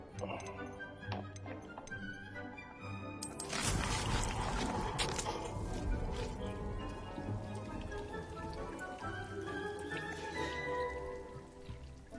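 Rain from a rain cloud in the Hogwarts video game patters as a dense, steady wash that swells after a few seconds, mixed with tinkling game music and a faint voice.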